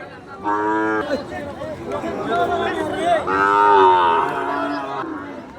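Cattle at a rural livestock market where farmers buy Sahiwal calves, mooing loudly and repeatedly in long drawn-out calls, close by, with faint crowd chatter in the background.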